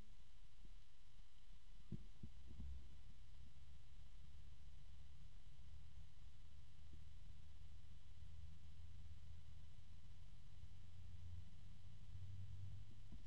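A DeepCool UF140 PWM 140 mm case fan spins up, giving a faint, steady low rotational hum and whir with a few soft thumps early on, gradually rising as the speed increases.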